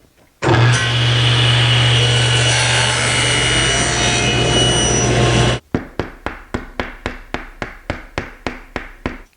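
A saw cuts hinge kerfs in wood on an INCRA IBox mounted to a miter fence: one loud, continuous cut lasting about five seconds, then a quick run of roughly a dozen sharp, evenly spaced clicks.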